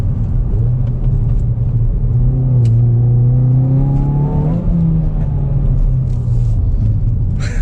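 A 2022 Hyundai i20N hot hatchback engine revs while driving hard through corners, a deep throaty drone rising in pitch, then falling back, over steady road rumble inside the cabin.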